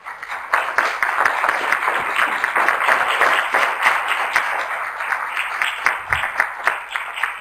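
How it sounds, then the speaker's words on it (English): A room of attendees at a patient-focused drug development meeting applauds the panelists, a loud sustained patter of many hands clapping close by, easing slightly near the end. "So I would like to ask everyone to give our panelists a round of applause."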